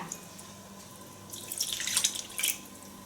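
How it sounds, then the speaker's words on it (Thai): Pandan leaf water poured into cassava dough for a Thai cassava dessert with coconut topping, a soft close splashing trickle that rises midway and tapers off, over a quiet room hum. "ฉันจะใส่ไปก่อนนะคะหนึ่งถ้วยนะคะ"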